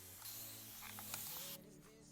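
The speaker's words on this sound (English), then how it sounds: "I'm just gonna spray some water just to reactivate the waves on the top" Water sprays from a bottle onto the top of a Swiss lace full frontal wig, a soft close hiss lasting about a second and a half and then stopping, with a faint hum in the background.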